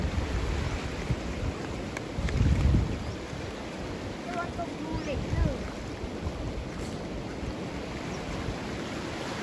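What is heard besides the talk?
strong water flow swirling at sluice gate weir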